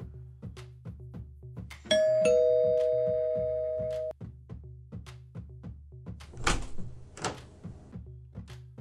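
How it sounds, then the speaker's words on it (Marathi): A two-tone doorbell chimes once, ringing out clearly over a steady ticking beat, followed later by a brief rustling clatter. "थोड्याच वेळात दारावरची बेल वाजली।"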